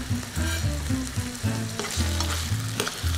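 Chicken fillet fries in a hot pan as part of a sweet chili chicken dish, giving a loud, steady, close sizzle with crackling spits throughout.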